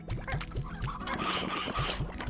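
Chickens clucking in the farming video game Slime Rancher: a quick run of short, evenly paced clucks, fairly close and clear, over a busy game background with no talk.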